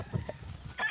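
Chickens on a farm give a few short, close clucks and calls over about a second, with one brighter call near the end.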